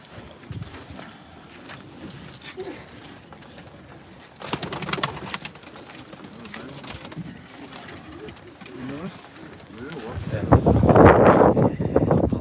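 Pigeons coo softly among general outdoor noise and wind, with people talking throughout and a louder rumbling gust near the end.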